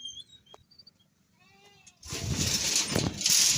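Sheep and goats at an evening pen bleat in a few faint calls at first, then a loud burst of overlapping animal noise and movement fills the second half as the flock crowds near.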